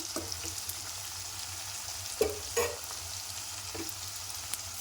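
Onions and tomatoes fry in a pan for a stuffed brinjal masala curry, a quiet, even sizzle with a few sharp spatula scrapes and knocks spread through it, and no voices.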